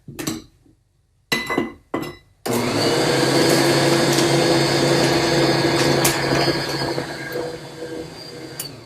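Flour is beaten into sand cake cookie dough: a few clinks and short bursts, then an electric mixer runs on in a loud, steady whir at close range.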